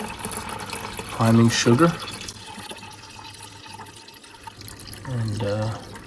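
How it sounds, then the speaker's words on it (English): Homebrewed extra special bitter flows from the fermenter into a Brew Demon fermenter used as a bottling bucket, a soft continuous splashing pour heard beneath someone talking. "out of the fermenter into the Brew Demon fermenter that I will use as my bottling bucket"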